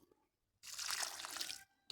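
Water poured from a container into a freshly dug planting hole for a tomato seedling in moist garden soil, a short splashing gush of about a second after a quiet pause, with a small drip at the end.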